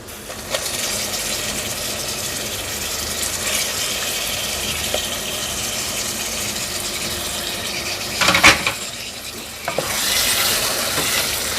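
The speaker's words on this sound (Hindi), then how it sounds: "तब तक हमने इस तरह भूनते रहना स्लो आंच पर" Mutton liver (kaleji) frying in masala over a low flame in a pan, a steady close sizzle with occasional scraping stirs and a brief clatter near the end.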